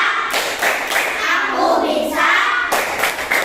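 Classroom children doing the 'tepuk bisa' clapping chant, rhythmic hand claps and thumps in bursts with young voices chanting along, fairly close and lively throughout.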